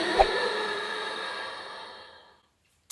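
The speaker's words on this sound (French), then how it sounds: "C'est la respiration Ujjayi." Ujjayi yoga breathing drawn through the back of the throat, a single steady breathy hiss lasting about two seconds and slowly fading, heard close and alone.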